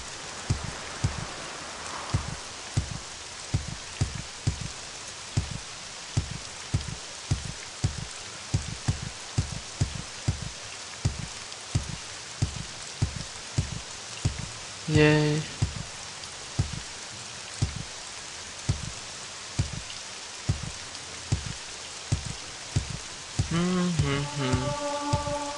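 Rain in the video game The Elder Scrolls III: Morrowind patters steadily alongside a regular thumping beat, with brief tonal chimes cutting in twice.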